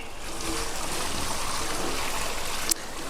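Water poured slowly onto salty farm soil in a field, a steady soft rushing trickle that runs throughout, ending with a brief sharp click.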